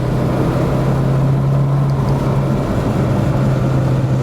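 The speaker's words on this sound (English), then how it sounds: "I just kind of let that turbo spool up and zoom, zoom, zoom." Turbocharged car driving on a mountain road, heard from inside as a steady, loud engine drone with road rumble and a constant low hum, without talking.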